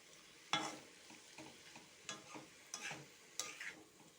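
Vegetables being stirred with tomato, green chili and soy sauces in a pan for vegetarian American chop suey, soft irregular scrapes and light sizzle, faint and close with no talk.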